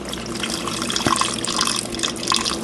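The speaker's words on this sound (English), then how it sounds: "I'll put in the water for my meat" Water pours steadily from a tap into a cooking pot holding meat for egusi soup, a continuous near splashing fill with no talk over it.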